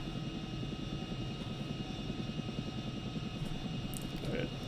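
A Chinook helicopter in a flight simulation game drones steadily with a low, continuous rotor and engine rumble, holding an even loudness throughout with a faint brief tone near the end.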